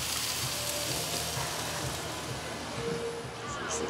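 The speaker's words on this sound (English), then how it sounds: "Y'all hear that bit sizzling?" Steady broadband sizzling of food cooking on a hot grill, continuous and fairly loud throughout, with faint background noise underneath.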